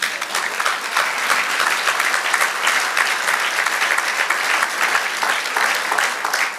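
A church congregation claps for the Lord during a Spanish-language sermon, giving dense, loud, sustained applause from many hands filling the whole stretch.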